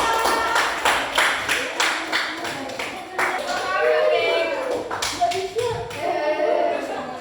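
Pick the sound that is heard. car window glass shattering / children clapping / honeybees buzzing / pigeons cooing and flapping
children clapping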